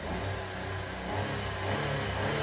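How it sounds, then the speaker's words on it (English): A Daihatsu HiJet kei truck with a fuel leak runs with its small engine revving and accelerating, giving a steady, loud close drone that builds slightly over a few seconds. "Let me give it some acceleration, or maybe I'll drive it around the block."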